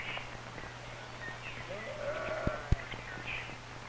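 A sheep on a farm gives a faint, brief bleat amid the steady hum and hiss of an old 1950s film soundtrack.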